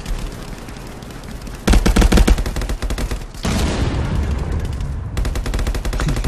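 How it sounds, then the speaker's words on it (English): Desert Eagle pistol gunfire in the VR shooter game Contractors: dense bursts of loud gunshots over steady background game noise, with no talk. "I shot him right in the head of the deagle."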